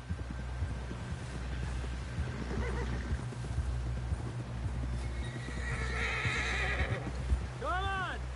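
A horse in the video game Red Dead Redemption 2 clip-clops steadily under a constant low hum and throb, then gives a clear whinny near the end.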